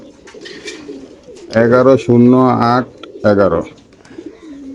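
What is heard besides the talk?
racing pigeons cooing at a pigeon farm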